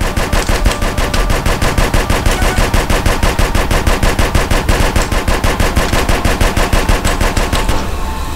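Rapid automatic gunfire in GTA San Andreas, loud sustained bursts of evenly spaced shots rattling for several seconds without pause and with no talk.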